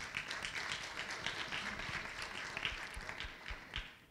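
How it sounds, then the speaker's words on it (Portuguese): Soft, steady clapping from a seated audience welcomes a panel moderator at the Deep Tech Rio 2025 science forum in Rio de Janeiro. The applause is a crowd of hands heard at a moderate distance, lasting several seconds without speech. "Uma salva de palmas."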